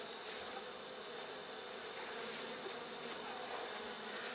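Honeybees buzzing at a hive during an inspection after requeening, a dense continuous hum of many bees close by, steady and moderately loud with no talking.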